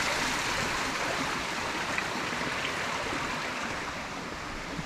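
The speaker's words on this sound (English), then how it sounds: "all these little water mills everywhere." Water rushes steadily past small water mills in the old post town of Magomejuku, a close, continuous broadband flowing roar with no pauses and no voices.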